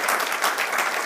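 A church congregation claps to welcome a newcomer: dense, steady applause from many hands filling the room for about a second.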